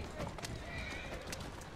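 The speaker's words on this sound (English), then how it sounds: "I'm thrashing the living daylights out of this poor horse." A horse gallops and neighs in the video game Assassin's Creed Syndicate: rapid, close hoofbeats with a whinny, and a voice faintly overlapping.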